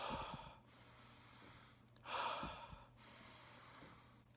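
A deep breath through the diaphragm is drawn in and let out at close range, with soft sustained airy inhales and exhales and one stronger breath near the middle.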